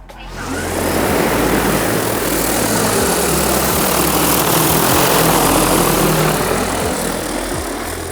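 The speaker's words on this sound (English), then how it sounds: "Aircraft preparing to take off." A DJI Agras T50 agricultural spraying drone spins up and lifts off, its rotors building quickly into a loud, steady roaring buzz that stays close and constant.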